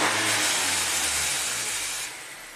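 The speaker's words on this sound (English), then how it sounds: "So let's rev it up." A 2019 Honda Accord turbo engine with an underboost fault revs under the hood: a steady, loud broadband engine roar with low droning harmonics that ease off and drop slightly near the end, no speech.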